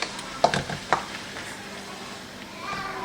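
Green onions and lumpia filling sauté in a pan with a soft, steady sizzle, broken early by a few brief stirring scrapes before the frying settles down.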